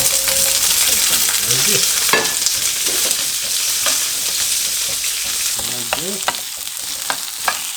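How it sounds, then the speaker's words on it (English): Asparagus sizzles in very hot olive oil in a pan over medium-low heat, a loud, continuous hiss with spatula scrapes and stirring clatter, while a voice speaks briefly. "The olive oil is extremely hot. I put the heat down to medium-low kind of thing, and I'm putting in the asparagus."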